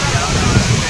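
Rushing waterfall in a flash flood at Old Courtallam, a dense, continuous roar of heavy water pouring steadily with low churning rumble, close and loud throughout.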